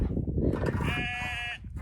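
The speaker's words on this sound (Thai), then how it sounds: "บรรยากาศได้ยินเสียงแกะร้องไหมคะ" A sheep bleats once in a long, wavering call over a busy, rumbling outdoor background in the English countryside, then the call stops.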